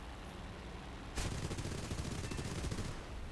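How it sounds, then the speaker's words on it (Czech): Rapid bursts of aircraft gunfire crackle in a fast rattling stream, starting abruptly after a second of steady engine-like hum and continuing to the end, from a War Thunder air battle between an F4U Corsair and an A6M2 Zero. "Škodil jsem mu, střílí po mně."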